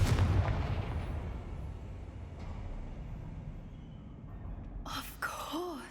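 A Confringo blasting curse explodes in a wizard video game: a loud broadband blast that slowly decays over several seconds, followed near the end by a short crack and swirling, whooshing magical tones.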